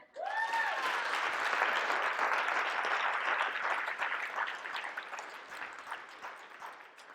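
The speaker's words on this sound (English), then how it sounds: "Clap it up." A conference audience breaks into loud, sustained applause that swells quickly and holds for several seconds before gradually thinning out, with no talking over it.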